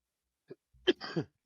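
A short, quiet throat-clearing cough, a couple of rough bursts close to the microphone, with brief silence around them.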